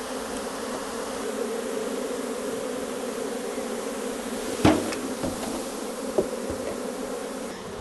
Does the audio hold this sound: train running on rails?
no